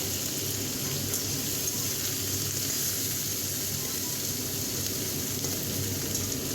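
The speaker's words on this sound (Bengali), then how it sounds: "একটু ভাজা ভাজা করবো সবজিগুলোকে দিয়ে" Continuous soft sizzle of vegetables frying in a pan, an even crackling hiss with no voices.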